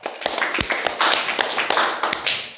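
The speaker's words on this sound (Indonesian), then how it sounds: "Tepuk tangan untuk kelompok 4 dan kelompok 3." A short burst of applause from a group, quick uneven claps overlapping throughout, fairly close and lively.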